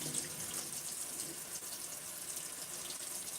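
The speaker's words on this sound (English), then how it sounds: "Fill it up like 3/4 of the way, well, like halfway with water for me. After I'm done washing this." A sink tap runs steadily while a pot is being washed, giving a constant, moderately quiet hiss of flowing water with no talk over it.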